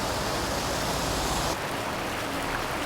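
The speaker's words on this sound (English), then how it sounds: "it sounds like the water's rushing pretty good" Steady broadband rush of flowing water, loud and continuous, with a slight change in tone partway through.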